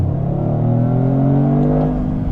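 A 2025 Toyota GR Corolla's engine pulls hard under acceleration on a street, a loud, steady rising drone from inside the car with no talking.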